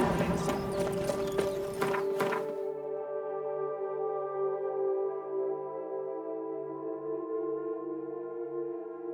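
Hooves of Roach, the horse from The Witcher 3, clop rapidly at a gallop for the first couple of seconds. The hoofbeats then stop, and a sustained tonal music bed carries on alone.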